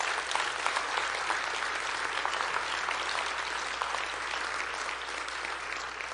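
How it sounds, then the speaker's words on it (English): A round of audience applause for an honoree at a talk, steady and fairly soft, sounding from a roomful of people clapping together for several seconds. "Give him a round of applause, please."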